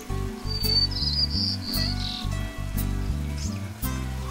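White-crowned sparrows sing on a rainy morning. Brief, bright chirping phrases rise above a steady, loud, low tonal backdrop.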